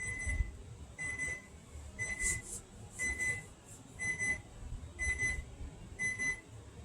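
A kitchen timer alarm goes off while bread bakes, sounding as a repeated series of high electronic beeps in regular bursts about once a second. The beeping is moderately faint over a low background hum.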